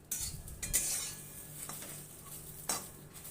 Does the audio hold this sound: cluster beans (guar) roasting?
yes